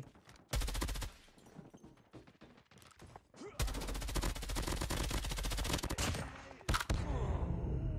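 Bursts of rapid automatic gunfire in Call of Duty: Mobile, loud and close, with a couple of long sustained volleys separated by brief pauses and scattered single shots.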